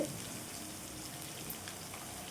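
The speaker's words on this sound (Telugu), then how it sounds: "ఇదైతే కొంచెం కలర్ మారేంత వరకు వేయించుకోవాలండి" Ridge gourd and peanuts fry in a pan with an even, hissing sizzle that stays close and steady throughout the short stretch, with no talking.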